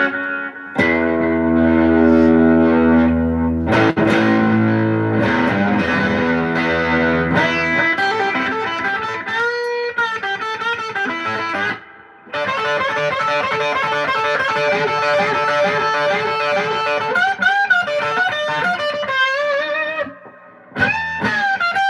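Electric guitar played through an amplifier with reverb set around 35 percent, ringing sustained chords then busier melodic runs, loud and close with a smooth wash of reverb, no talking.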